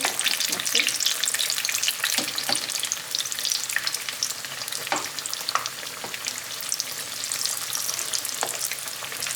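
Batter-coated aubergine slices fry in hot oil, a continuous loud crackling sizzle with dense irregular pops, close and alone with no voices.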